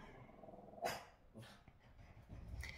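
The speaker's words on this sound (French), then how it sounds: "en pleine vidéo il faut toujours qu'il aboie" A house dog in a town home barks a few times in quick succession, with a low growl and a whine in between, fairly faint and somewhat distant, with no talking over it.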